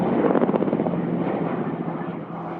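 A Black Shark attack helicopter in a 1990s feature film, its rotor and engine giving a steady, loud, throbbing drone with no pauses.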